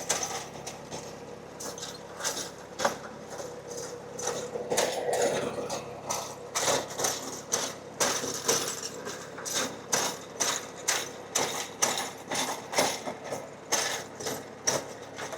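A Farmtrac Atom 26 mini tractor, 26 HP, drives a 20-blade rotavator through a field, giving a steady mechanical churn with a rapid, regular clatter of blades. It runs alone at close range with no talking.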